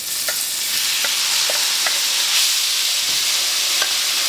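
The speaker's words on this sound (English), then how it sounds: "we'll stir in our onions and carrots" Onions and carrots are stirred into melted butter and olive oil over medium heat, producing a loud, steady frying hiss with light, irregular scraping and stirring sounds throughout.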